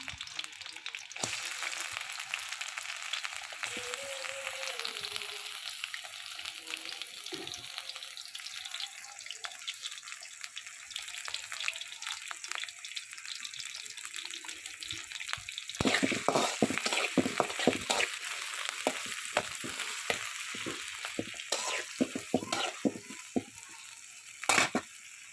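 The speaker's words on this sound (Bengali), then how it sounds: "এবার আমি চিংড়ি মাছগুলো একটু ভাজে নেব" Canal prawns fry in a pan with a continuous crackling sizzle, joined partway through by louder bursts of popping and scraping as they are stirred, close up with no talking.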